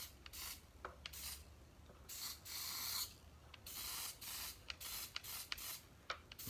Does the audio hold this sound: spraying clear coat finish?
yes